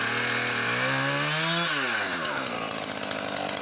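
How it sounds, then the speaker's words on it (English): A Husqvarna chainsaw running on two-year-old premixed fuel runs close by, its engine rising in pitch, then dropping back and settling into a loud, rough buzz. "do y'all hear how good that saw runs?"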